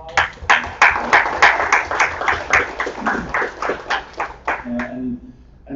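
Sparse, uneven clapping from a small group at an advocacy summit media training session, individual claps distinct and close, tapering off at the end.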